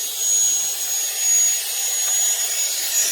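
Rotary tool spinning a Harbor Freight carbide burr, a steady high-pitched whine with a hissing, grinding edge that holds evenly throughout, loud and close, with no talking.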